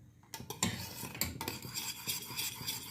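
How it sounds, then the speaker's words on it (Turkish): A spoon stirs thickening milk jelly in a pot for a blue poppy-seed milk dessert, with repeated scraping and clinking against the metal close by, alone. "Evet karıştırıyorum"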